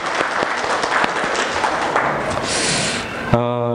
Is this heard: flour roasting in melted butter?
no